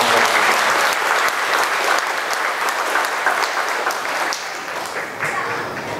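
A church congregation claps together in sustained, loud, dense applause through the whole stretch, easing slightly toward the end.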